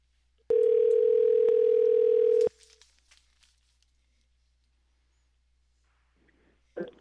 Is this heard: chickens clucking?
no